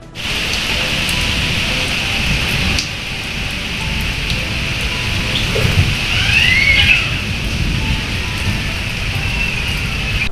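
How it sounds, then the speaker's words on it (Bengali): Steady rain falls throughout during polling in an election's fifth phase, a continuous broadband wash with a faint distant rumble, no voices present. "ভোট চলাকালীন বাদ সাধল বৃষ্টি"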